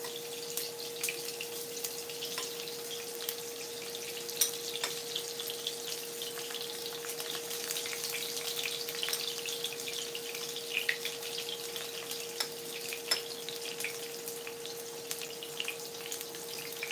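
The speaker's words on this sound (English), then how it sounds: "so I'm gonna put my onions in" Onions frying in a pan for Cuban fried pork chunks, a steady, moderately loud hiss with occasional crackles and a constant background hum, no talk.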